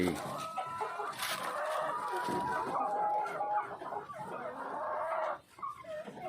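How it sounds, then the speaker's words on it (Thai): Laying hens clucking in a farm coop in the morning, with overlapping busy clucks and calls from several birds that carry on throughout at moderate distance. "ไก่ไข่"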